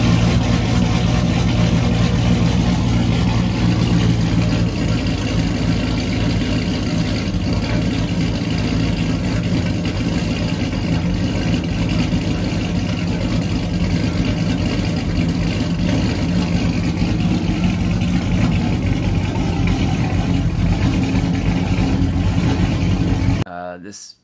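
A single-cab truck with a built 6.2 liter LS engine, hand-ported rectangular-port heads and a big boost cam idles loudly and steadily nearby, with a constant rumble until it cuts off abruptly at the end.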